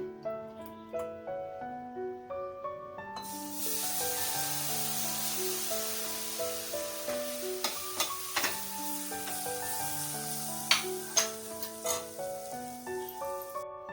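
Hot milk poured over desiccated coconut in a pan sets off a loud steady sizzle and hiss, with music playing underneath throughout.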